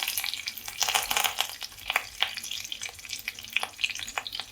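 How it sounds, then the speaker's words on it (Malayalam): Mustard seeds, urad dal and curry leaves sizzle and crackle in a hot pan for tempering onion chutney, a steady bright frying hiss broken by sharp popping spatters throughout, close and alone with no talking. "കടുവറുത്തൊഴിക്കാം ഒരു പാൻ വെച്ചു അതിലേക്ക് അല്പം കടുക് ഇട്ട് കൊടുക്കാം"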